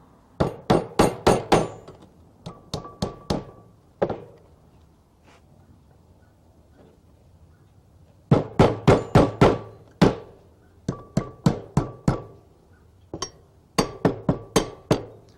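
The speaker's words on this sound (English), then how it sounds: "Then we're going to take a hammer and a couple of nails" Nails are hammered in quick bursts of sharp metallic strikes, four to six blows per run, with short pauses between sets; close and loud.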